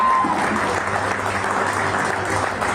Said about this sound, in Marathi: अक्षय गायकवाड, एकदा जोरात टाळ्या वाजवा